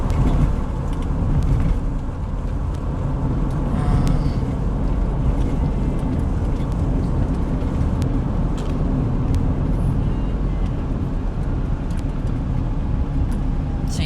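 Steady, loud road rumble from inside a car travelling along a highway, a continuous low drone with tire and wind noise that never lets up.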